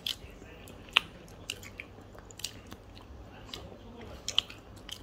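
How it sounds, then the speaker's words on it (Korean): Sweet potato being eaten close up, with soft irregular bites and chewing crunches spread across a quiet background. "언니 언제까지 먹을 건데 고구마?"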